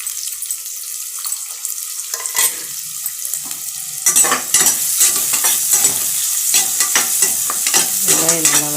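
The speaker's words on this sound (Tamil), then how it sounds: "வெங்காயம் நல்லா வதங்கணும்" Onions sautéing in hot oil in a pan, a steady close sizzle that grows louder and busier midway, broken by scraping stir strokes and brief clinks; no one speaks.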